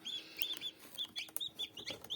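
Newly hatched chicks peep in short, high-pitched bursts, repeating rapidly and close by in a box with no talking.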